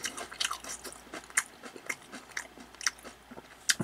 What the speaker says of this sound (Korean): 사각사각 씹히는 맛이 좋네요.